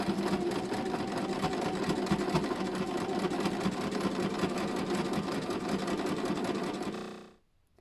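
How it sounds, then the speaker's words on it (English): A sewing machine stitches steadily along the curved edge of a detachable collar, a fast, even mechanical whir heard close up and alone for about seven seconds before it stops abruptly. "we're going to sew all along this curve"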